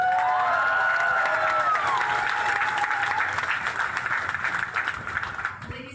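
A tent audience at an evening event breaks into sustained applause with cheering, loud and dense, slowly thinning toward the end.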